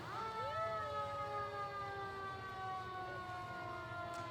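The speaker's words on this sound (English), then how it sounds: "How about that big Fort Worth welcome to downtown engine truck number 1" A fire engine siren wails with a long sustained tone from Fort Worth engine truck number 1 rolling through a downtown holiday parade of lights, steady and moderately distant.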